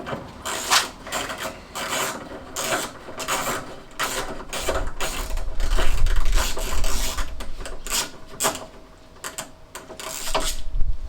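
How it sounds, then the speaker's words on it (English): A 13mm socket on a ratchet works the nudge bar bolts of a classic Fiat 500, giving a run of quick, close rasping clicks with some metallic rubbing and a low thump midway, heard alone with no talking. "so I've got 13mm socket, ratchet, and I'm going to start on this side"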